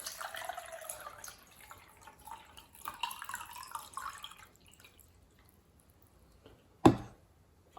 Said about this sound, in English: what I've done is filled this with water from the melted snow. I'm going to pour this in here.